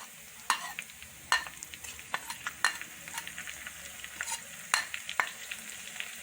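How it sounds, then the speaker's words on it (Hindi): Ginger garlic paste sizzles steadily in hot oil over already browned onions for Lahori chanay, with sharp clinks and scrapes of a stirring spoon every second or so, close and alone. "अब अदरक और लहसुन को अच्छी तरह से भून लेंगे जब तक इसका कच्चापन दूर नहीं रहता।"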